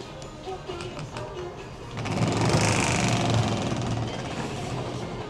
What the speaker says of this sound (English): All right, everybody, I'm spinning the wheel.